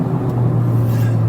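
Cabin of a Honda Civic Type R on the move, a steady low engine drone and road rumble filling the interior, continuous and fairly loud with no variation.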